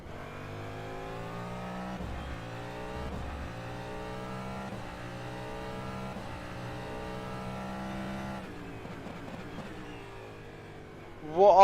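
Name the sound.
Cadillac DPi hypercar engine at Nürburgring in rFactor 2 video game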